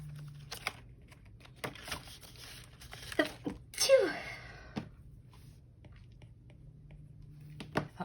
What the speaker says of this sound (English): I was gonna sneeze again.